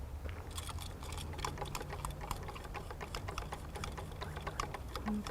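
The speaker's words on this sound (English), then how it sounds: "now you can hear this little box clicking" A loosely mounted plein air painting box rattles on its tripod outdoors, giving rapid, irregular light clicks and ticks over a faint steady background hum, quiet and close.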